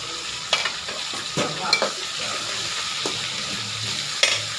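Tomato, tamarind, mint, coriander and curry leaves sauté in a hot pan with a soft continuous sizzle, punctuated by several distinct scrapes and clinks of a spoon stirring.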